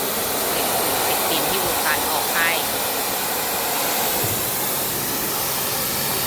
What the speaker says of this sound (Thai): ในส่วนของหม้อน้ำช่างก็จัดการฉีดล้างความสะอาดภายนอกให้ค่ะ